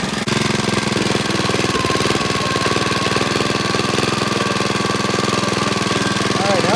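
A Brutus lawn roller, a small steamroller, chugs steadily up close while being driven, its engine running with a continuous knocking rumble; voices can be heard over it.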